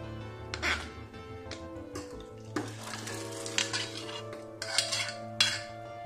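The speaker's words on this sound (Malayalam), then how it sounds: "അപ്പൊ നമുക്കിനി ഇത് ഒരു പാത്രത്തിലേക്ക് മാറ്റാം." Kerala vellapayar puli curry moved from the cooking pot into another vessel, with intermittent metal utensil clinks and scrapes, a few sharp knocks, and a soft sizzle beneath, close and fairly quiet.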